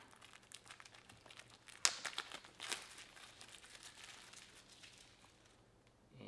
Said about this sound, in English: let's go ahead and take the plastic out